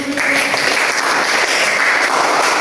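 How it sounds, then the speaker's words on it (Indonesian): A class audience applauds a group presentation at an Indonesian teaching assessment, a loud, steady patter of many hands clapping nearby that continues evenly for under three seconds. "Sudah, kita beri tepuk tangan."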